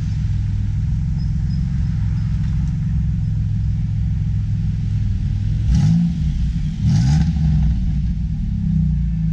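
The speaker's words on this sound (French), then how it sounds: "ça ronronne, on dirait un V8" A deep, rumbling engine idles steadily, then gets two quick revs in a row, the low growl swelling and falling back.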